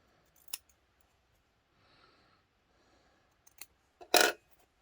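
A few crisp scissor snips cutting fabric for throw pillows sound close by, spaced apart in a quiet room, with the last cut the loudest and longest.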